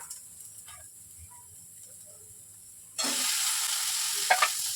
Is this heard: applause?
no